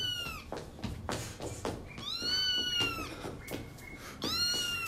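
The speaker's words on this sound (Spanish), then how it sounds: "¡Qué linda gatita!" A kitten mewing in a series of high, insistent meows, several calls in quick succession with short gaps, fairly close and clear, with no talking.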